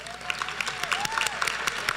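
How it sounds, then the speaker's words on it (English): An audience applauds at a nursing program pinning ceremony, with steady clapping from many hands in a hall and individual claps popping out near and far, a faint tonal hum running underneath. "Please stand and let's give them a round of applause."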